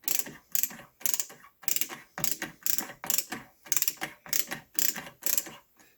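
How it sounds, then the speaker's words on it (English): Mounting screws on a tower CPU cooler for an AMD processor are driven down in a steady series of about ten short ratcheting bursts, close and fairly quiet, with no talking. "Yeah, a lot of screwing going on."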